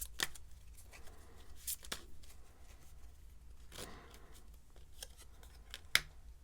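Tarot cards are shuffled and drawn in a quiet room, with soft papery riffles and a few sharp snapping flicks spread across the stretch, faint and close.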